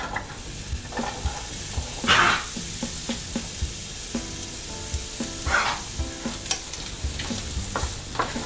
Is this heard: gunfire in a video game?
no